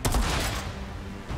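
Gunfire from the Outriders video game sounds as a sharp, loud crack up front, followed by a rattling decay and a softer thump near the end.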